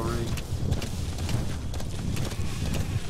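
Horse hooves clip-clop steadily in Metal Gear Solid V: The Phantom Pain, a continuous rhythmic gallop of fairly loud, close footfalls with someone talking over them.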